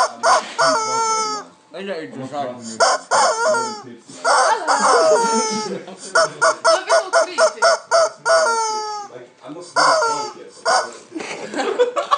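Loud, raspy squawks from a toy rubber chicken come in repeated bursts and stutters close to the mic, with brief gaps between them and no talking.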